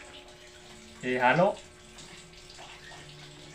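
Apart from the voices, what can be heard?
water being poured in for mixing with egg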